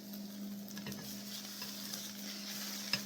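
Egg omelette with melting cheese cooking in a small pan on a stove with the heat turned off, a steady soft sizzle under a low hum, with a faint utensil tap near the end.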